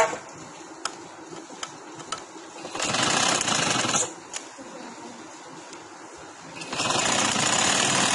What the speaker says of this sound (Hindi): और हम अब इसकी सिलाई लगा लेते हैं